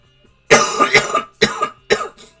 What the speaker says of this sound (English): I am fighting a cough and a cold.